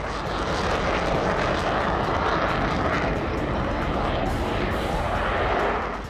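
A Rafale fighter jet engine roars steadily and loudly for several seconds, a dense broadband rush with no voices over it.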